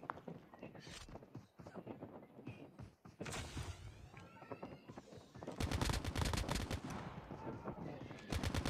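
Gunfire in the mobile shooter game Call of Duty: Mobile: bursts of rapid automatic fire that grow denser and louder toward the end, mixed with thumps and quieter game sounds.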